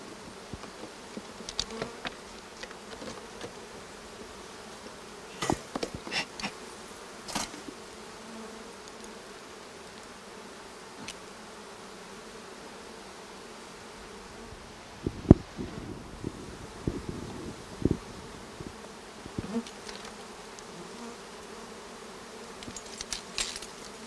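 Bees hum and buzz steadily through a wild rock honey harvest on a mountainside, faint and continuous, with occasional louder passes close by and light wind and rustling in the background.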